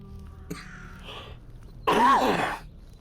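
A man's throat clearing and coughing during a S.T.A.L.K.E.R. Anomaly modding session at home: a brief rough clear, then a louder harsh cough burst, close and alone.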